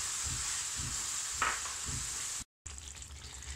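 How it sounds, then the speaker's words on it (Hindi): Ginger-garlic, cashew-poppy paste and yogurt fry in a pan for mutter paneer korma, giving a soft steady sizzle with a few low stirring bumps, fairly faint and briefly cut out near the end. "और अब हम इसको बहुत अच्छी तरह से भूनेंगे कम से कम 5 मिनट"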